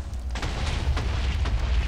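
A TNT explosion from the game Minecraft, heard as a single deep, rumbling boom that stays loud and sustained across the short stretch with no speech over it.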